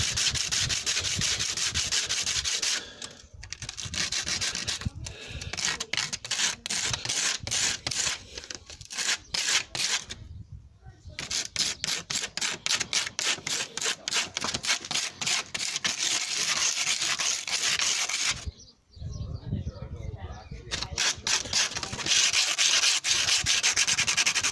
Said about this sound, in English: easy way to sand, rather than trying to use the sandpaper on the piece of bone